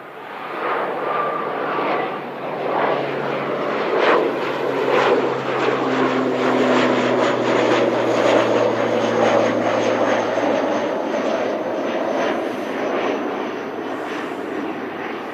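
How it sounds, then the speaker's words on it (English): A black ATR turboprop airliner departs an airport in strong wind, its propeller drone loud and sustained for the whole stretch, rising and steady with a low engine rumble and no talk. "No, yeah, it is black ATR, sorry."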